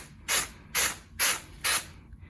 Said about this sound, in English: what I always do before I start spraying it on the wall is I get a cardboard box